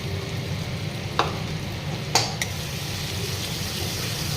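Sour curd frying in a pan over low heat while being stirred, a steady soft sizzle throughout with two or three sharp clinks of a spoon against the pan partway through.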